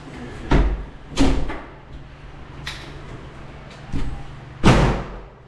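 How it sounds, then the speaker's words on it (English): A door slams shut with a heavy thud, preceded by several other sharp knocks and bumps in a quiet room, each impact loud and close. "Slam the door."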